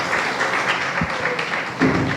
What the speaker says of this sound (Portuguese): Aplaudindo ao Senhor